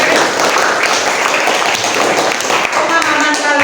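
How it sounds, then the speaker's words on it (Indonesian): A classroom of students applauds, a dense and loud burst of clapping sustained throughout, close by, with voices mixed in underneath. "Oke ya, tepuk tangan."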